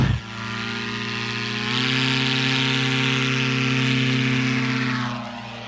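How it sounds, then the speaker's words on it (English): An ultralight aircraft with a Rotax 617 engine airborne at low height over an airshow in Lakeland, Florida, a loud, steady buzzing engine drone with strong harmonics that rises slightly in pitch, passing fairly close, with no talk. "Airborne at 69 feet with that 617 Rotax."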